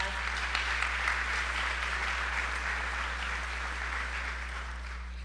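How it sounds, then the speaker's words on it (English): Steady, sustained applause from a large crowd at an ATHENA Award presentation, dense and even throughout, fading slightly toward the end. "Can we please give them another round of applause?"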